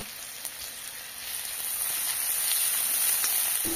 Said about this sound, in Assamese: এইখিনি এতিয়া মই পিয়াজখিনি ৰঙচুৱা হোৱাকে ভাজি লম।